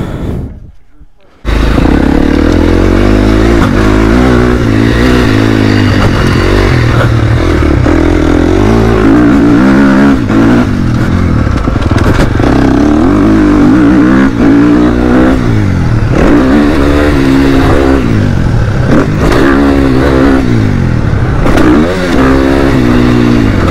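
A motocross motorcycle roars close by, its engine revving and surging continuously with rising and falling pitch after a brief quiet start.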